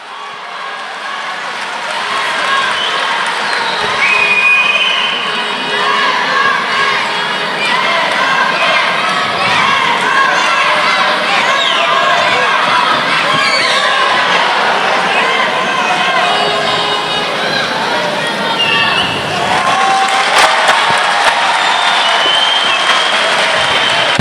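A large arena crowd at the World Judo Championships cheers and applauds continuously, a broad roar rising and falling with scattered shouts, while a commentator talks over it.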